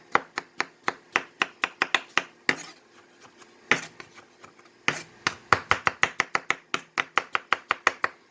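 Knife chopping strawberries into small pieces for homemade preserves on a cutting board, sharp quick taps in steady bursts with a couple of brief pauses, close and clear with no talking.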